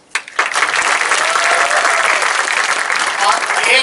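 A comedy show audience breaks into loud, sustained applause after a sharp opening clap, a dense wash of hand claps that stays full and steady throughout.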